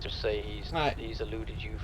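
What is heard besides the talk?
No everyday noise stands out behind the speech.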